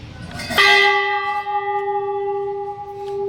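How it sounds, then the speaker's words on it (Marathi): A large bell at the Jogeshwari Mata temple in Nashik is struck once. It gives a loud, sharp clang, then a long humming ring that slowly fades, with no talking. "मंदिराच्याच अलीकडे खूप मोठा असा घंटासुद्धा आहे"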